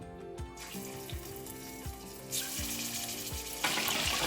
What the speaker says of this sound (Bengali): তেলটা অনেকটাই গরম হয়ে গেছে এখন আমি তেলে একে একে দিয়ে দিব আমার কাবাবগুলো